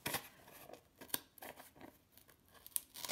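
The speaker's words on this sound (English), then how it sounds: "You might need to carefully widen it with some scissors." Several short snips and crisp scissor strokes cutting through cardboard, irregular and close, with brief rustling between cuts.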